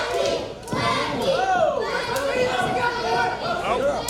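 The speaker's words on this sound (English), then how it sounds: "the crowd desperately trying to get the champ back into this matchup" Pro wrestling arena crowd at an American Championship Pro Wrestling event, a steady loud roar of chatter and shouting from many voices with scattered cheers and yells, continuous throughout.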